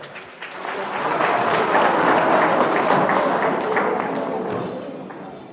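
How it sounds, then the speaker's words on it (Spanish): A crowd at a Bolivian women's confederation anniversary event breaks into applause that swells and then tapers off slowly, with a dense wash of clapping hands. "Un fuerte aplauso para nuestro hermano"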